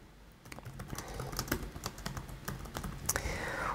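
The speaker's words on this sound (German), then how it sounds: "Ich schreibe jetzt hier einfach mal etwas hinein." Keys clatter on a computer keyboard as a comment is typed, a close run of quick, uneven taps and clicks lasting several seconds with no voices.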